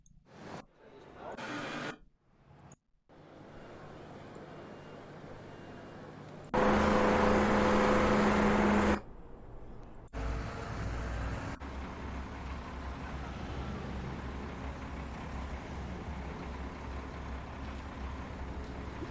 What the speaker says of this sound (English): I want like car sounds, but I don't want it to be like city.